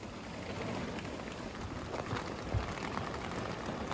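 Steady rain patters and hisses on a camping setup throughout, a constant wash of drops with a few slightly louder taps, no voices.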